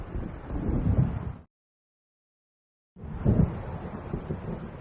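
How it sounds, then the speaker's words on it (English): Stormy weather in Alan Wake Remastered, with low rumbling wind and distant thunder-like roar over the sea, broken by a stretch of total silence before the rumble returns. "It seems there's a storm coming."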